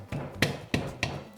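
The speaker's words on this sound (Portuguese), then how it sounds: "O alho vou só esmagar" Garlic cloves crushed under a blade or flat tool while making chicken cacciatore: three sharp, close thumps evenly spaced about a third of a second apart over a low kitchen background.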